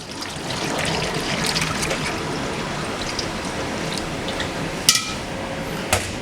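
Milk pours steadily into a bowl for bread pudding batter, a continuous close trickle with two brief clinks near the end.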